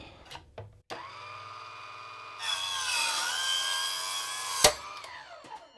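A Proxxon KGS 80 saw cuts through ABS plastic with a steady, loud whine that rises as the blade bites in, ending with a sharp knock; no talking.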